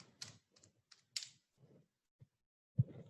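Computer keyboard typing while entering a true-or-false question into online exam software: quiet, irregular bursts of key clicks with gaps between, ending in one louder keystroke.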